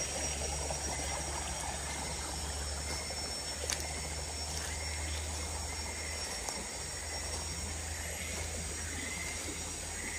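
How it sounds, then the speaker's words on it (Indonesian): Small stream flowing through an abandoned forest recreation area, a faint, steady wash of water with low background hum and no talking. "Ada anak sungai ni."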